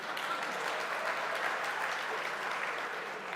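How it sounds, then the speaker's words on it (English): Audience applause at the THiNK 2012 conference hall, a steady, dense clapping that holds at an even level throughout with no voices on top. "You've got to clap for saying nothing, actually."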